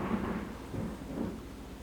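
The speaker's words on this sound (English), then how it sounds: "There's actually a lot of lightning and thunder outside right now, so we're in the middle of a thunderstorm." Low rumbling thunder rolls through a thunderstorm outside, a steady distant grumble with faint rain hiss, continuous across the moment with no voices.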